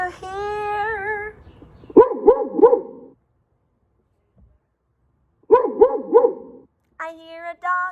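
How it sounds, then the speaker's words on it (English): A dog barks in two bursts of three quick yaps each, loud and close, separated by silence, with other voiced sounds at the start and end. "I hear a dog."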